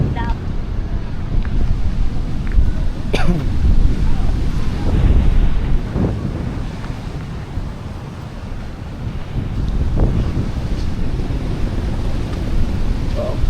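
Steady roar of wind and surf along a shore, with waves washing in continuously and wind buffeting the microphone throughout.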